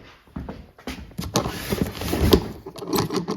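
A small storage drawer full of collectible items slides and rattles open indoors as something is fetched. Irregular clunks and knocks follow, with a louder knock near the middle.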